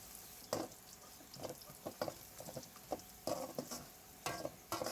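Puffed rice and onions fry in a pan, quiet and fairly distant, with irregular scraping and rustling stirs over a low background sizzle.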